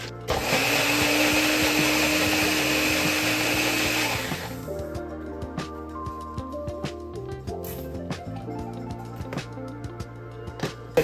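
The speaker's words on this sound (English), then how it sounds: "I just put a little bit of milk in my blender cup so I could blend the rest of this mixture out" A blender whirs loudly and steadily for about four seconds as it mixes vegan sweet potato cornbread batter with milk, then cuts off. Lighter clinks and knocks from the blender cup follow.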